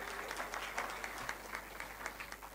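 Steady applause from a ceremony audience at an engineering institute celebration, a dense patter of many hands clapping throughout at even loudness.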